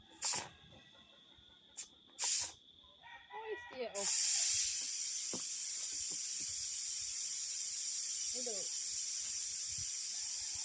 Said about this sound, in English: I'm gonna release this steam from